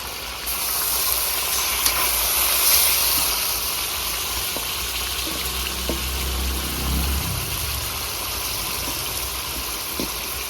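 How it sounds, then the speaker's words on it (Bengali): Chicken meat with turmeric and spices frying in a pan, giving a steady, close hiss and sizzle with a faint low hum underneath and no talking. "মুরগি মাংসটা আমার অনেকটাই ভাজা হয়ে গেছে"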